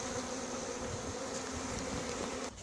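Honeybees from a captured swarm buzz steadily up close, a dense continuous hum that cuts off abruptly near the end.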